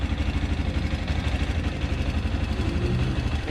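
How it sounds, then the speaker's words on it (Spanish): Italika VX250 2021 motorcycle engine running at idle, a steady low rumble with continuous mechanical clatter, close and fairly loud throughout. "aquí vamos a escuchar el sonido de la BX250 modelo 2021"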